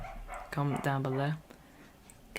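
Dogs barking outdoors, several yelping barks with harmonic yips clustered in the middle, heard under and around someone talking over a live football watchalong.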